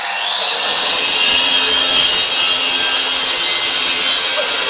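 An angle grinder runs continuously close by at high speed, a harsh broadband scream with a steady whine, cutting in an abandoned building where people are cooking.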